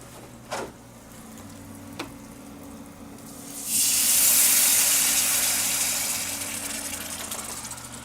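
Risotto rice cooking in a pan, starting quiet with a couple of small clicks before a loud sizzle and hiss bursts in about halfway and keeps steaming steadily to the end, with no talk.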